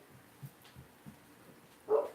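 A dog barks once, distant and fairly faint, after a few soft low thumps against quiet outdoor background noise on a homestead.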